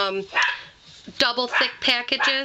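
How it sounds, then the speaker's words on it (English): A dog barks several times in short bursts close by, sounding loud over a quiet room, while someone speaks briefly before the barks. "Excuse my dog."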